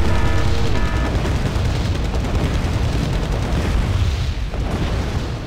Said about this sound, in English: And also, that's rocket artillery.